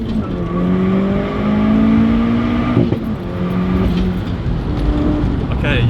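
A Stage 2 VW Golf Mk4 GTI accelerates hard from a standstill, the engine note climbing steadily through the gear with a brief shift break near the middle, loud and close from inside the car, with a little wheelspin.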